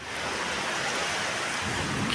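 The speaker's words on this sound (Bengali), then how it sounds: "কি জোরসে মেঘ ডাকছে, বৃষ্টি হচ্ছে।" Heavy rain pours in a dense, loud, steady roar with a low rumble that may be thunder underneath, and no voices.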